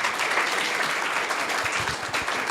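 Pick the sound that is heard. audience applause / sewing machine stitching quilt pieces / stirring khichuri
audience applause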